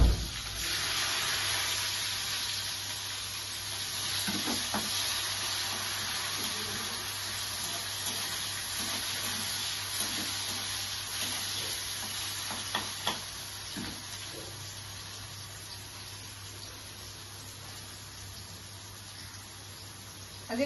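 Onions sizzling in hot oil in a home kitchen pan with a dried chilli and bay leaf, a steady broadband hiss lasting throughout with occasional soft scrapes and clinks of stirring.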